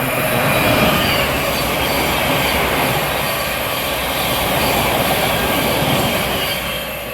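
A Thameslink Class 700 electric train passes at Welham Green on the East Coast Main Line, a loud, steady rushing roar of wheels on rails with faint squeal that fades slightly at the end.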